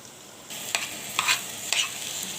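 Washed, drained rice hits hot oil and is sautéed, a continuous sizzle broken by several sharp scraping stirs at regular intervals, close and clear with no voices.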